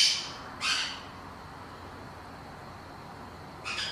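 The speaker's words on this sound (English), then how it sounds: "He's a crimson-breasted conure, all the way to Australia from Chile." A crimson-breasted conure gives three harsh, loud squawks, one at the start, another soon after and a third near the end, separated by quiet outdoor background hiss.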